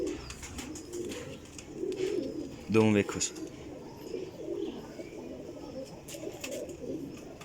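Golden teddy pigeons coo in a loft while someone talks over them; one louder, throaty call stands out near the middle against softer bird sounds.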